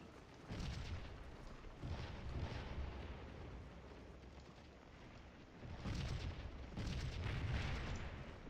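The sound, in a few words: artillery fire in the video game Scourge of War: Gettysburg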